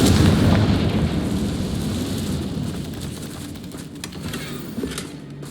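In the video game Hogwarts Legacy, the Confringo spell bursts into a booming explosion that starts loud and rumbling, then trails off into a long crackling decay with scattered debris-like pops.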